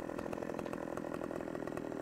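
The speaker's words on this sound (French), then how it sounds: "donc on a normalement une tronçonneuse" A chainsaw in Farming Simulator 15 revs and cuts in a fast, rhythmic buzz, loud and close, with no voices.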